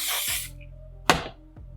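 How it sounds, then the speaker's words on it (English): An aerosol spray is applied behind a lace wig, with a loud broadband hiss of about half a second at the start and a second shorter burst near the middle, followed by small handling noises. "What I'm going to do now is spray behind this."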